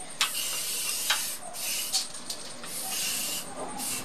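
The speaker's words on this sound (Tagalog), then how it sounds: "So, mag-spray na daw." Insect spray is sprayed to kill mosquitoes, giving a close, airy hiss in several short bursts of varying length separated by small gaps.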